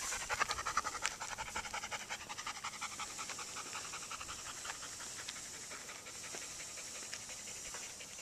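A Labrador pants in quick, rhythmic breaths, close and fairly quiet, keeping an even pace from start to finish.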